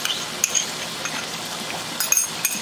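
A spoon stirs yogurt in a bowl, making light clinks and soft scraping with a few sharper taps against the side, close by and quiet, with no voices.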